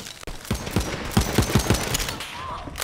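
SMG fire in the shooter video game Borderlands 3: rapid bursts of loud, close automatic shots in a fast rattling rhythm, with brief pauses between volleys.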